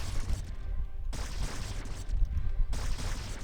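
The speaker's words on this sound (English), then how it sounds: "Another siege tank being sniped" Bursts of gunfire and explosions hit a siege tank in StarCraft: Brood War, dense rattling fire with heavy low booms in two or three surges across a few seconds.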